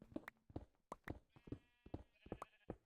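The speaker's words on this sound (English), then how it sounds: "I hear the sheep already, and that kind of bothers me." Sheep in the game Minecraft bleat repeatedly, short quiet calls coming at a fairly regular pace, several in a row with near-silent gaps and no talk over them.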